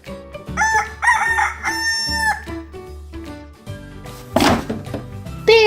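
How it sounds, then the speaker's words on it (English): A rooster gives a loud, close cock-a-doodle-doo mixed with toy-like clunks and thumps, with a second, rougher crow near the end. "bird, rooster bird"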